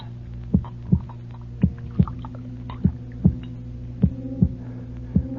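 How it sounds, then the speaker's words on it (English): Heartbeat sound effect from a 1954 radio drama of Poe's The Tell-Tale Heart: paired thumps repeating in a steady rhythm over a low hum, close and moderately loud. "I seemed to hear a beating in my ears."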